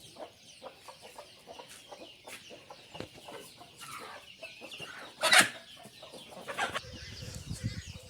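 Country chickens on a farm cluck in scattered bursts with short calls, near and moderately loud, mixed with rustling and shuffling among the birds, and with a sharper squawk partway through.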